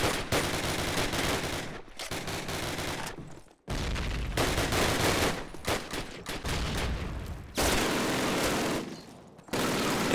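An MG42 machine gun in the Call of Duty multiplayer game fires long, loud, dense bursts of automatic fire, with a few short gaps between volleys and no talk over it.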